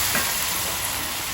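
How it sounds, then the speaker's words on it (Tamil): Karuvadam, dried lentil dumplings, frying in a pan for arachuvitta sambar, giving a steady close hiss and crackle of hot oil that holds evenly through the short stretch with no talk. "இந்த கருடாத்தை வறுத்துன்றேன்."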